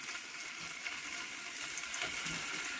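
Kofta meatballs fry in a pan for an Iraqi eggplant stew, giving a steady, dense sizzle and hiss that holds at an even level throughout, with no talking.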